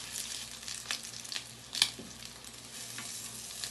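Guyanese-style salmon patties frying in a pan over high heat give a steady, soft sizzle with a brief sharper pop near the middle; no one talks.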